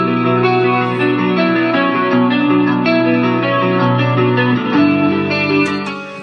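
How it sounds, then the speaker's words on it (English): Soloed guitar tracks from a recorded rock song, clean and pristine, layered chiming chords sustained and changing smoothly with a reverberant shimmer, loud and alone, fading slightly at the end. "So when I solo out just those guitars"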